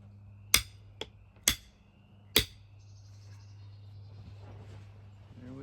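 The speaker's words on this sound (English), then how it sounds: "I'm going to do a little chisel action here." A chisel is struck with a hammer while camper batteries are fitted: four sharp, close metallic taps in uneven rhythm, followed by low background hum and faint rustling.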